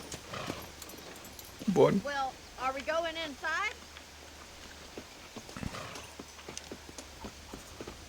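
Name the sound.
horse hooves in video game Red Dead Redemption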